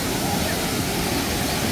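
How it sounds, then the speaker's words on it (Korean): Janggak waterfall at Songnisan, six metres high, roars steadily as a dense, continuous rush of falling water heard up close. "이 장각폭포고 높이가 6m."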